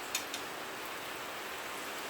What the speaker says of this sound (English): It's raining over here.